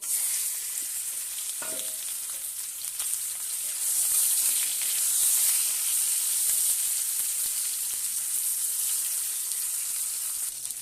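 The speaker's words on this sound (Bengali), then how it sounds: "তেল গরম হয়ে গেছে, আমি নুন হলুদ মাখিয়ে রেখেছিলাম মাছটাকে, আর মাছটাকে দিয়ে দেবো।" Shati fish rubbed with salt and turmeric frying in hot oil in a wok, a loud continuous close sizzle with a brief clink near the start and a hiss that swells midway.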